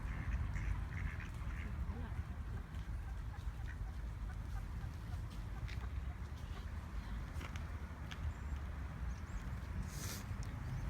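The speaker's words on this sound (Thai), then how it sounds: "เป็ดอาบน้ำในคลอง" Ducks bathing in a canal quack repeatedly at a moderate distance over a constant outdoor wash of water and ambient noise, with indistinct human voices mixed faintly in the background.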